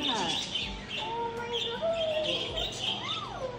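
Birds chirping and whistling in short calls over a busy background murmur, one call sliding up and down in pitch, at an alligator farm and petting zoo in Arkansas.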